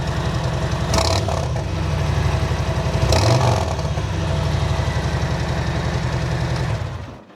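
A motorcycle fitted with a TAB slip-on exhaust, red line version, runs loud and close, holding a steady throbbing idle broken by two sharp throttle blips.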